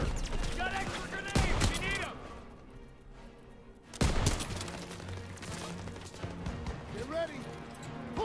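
Dense WWII battlefield gunfire from Call of Duty: WWII during a stronghold defense, sustained volleys of rifle and machine-gun shots with loud bursts near 1.5 and 4 seconds, under shouted voices.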